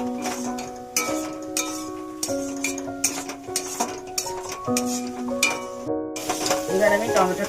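Fried potatoes sautéed and stirred into a pea-paste masala in a pan for aloor dom, with steady sizzling, scraping and clinks of a utensil against the pan.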